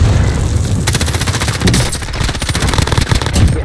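Loud, dense automatic gunfire rattles in rapid bursts in the Warzone video game, nearly continuous close shots with booming low thuds, no voices.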